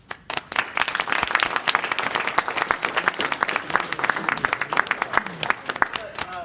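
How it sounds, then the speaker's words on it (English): After a brief quiet start, an audience at a university panel on the fiftieth anniversary of 1968 breaks into dense, sustained clapping for the panelists, with a voice rising over it near the close. "A round of applause for our panelists."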